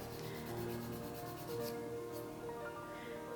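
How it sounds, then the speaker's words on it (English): A nail file rasps repeatedly across a broken fingernail patched with toilet paper and glue, a close, soft rhythmic scratching that continues steadily without any speech. "We want to be careful during this filing process that we don't file the glue and the toilet paper"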